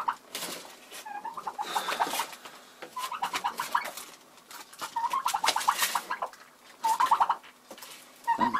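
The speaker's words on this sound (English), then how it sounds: "broody turkey hen" A broody bronze turkey hen makes repeated agitated, trilling, purring calls in irregular bursts, close to the microphone, with short pauses between them.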